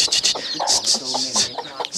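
Chickens cluck repeatedly at close range in a farmyard, short bright calls overlapping in quick bursts.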